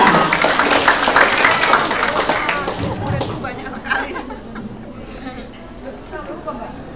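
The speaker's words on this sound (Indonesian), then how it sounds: "Mbak Lia, kita beri tepuk tangan untuk Lia." Audience applause and cheering in a theatre hall after a poetry performance, a full burst of clapping that gradually thins and fades while crowd chatter continues underneath.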